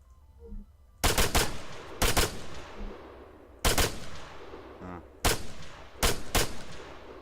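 Gunfire at a shooting range in the video game ARMA 3: five loud, sharp bursts of shots, some in quick doubles, spaced about a second apart over a low background hum.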